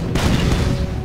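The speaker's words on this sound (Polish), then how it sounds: "następne działo mi wybuchło" A cannon explodes aboard a ship in the naval battle game Age of Pirates: Caribbean Tales, a loud, dense booming blast that rumbles continuously for about a second with no talk over it.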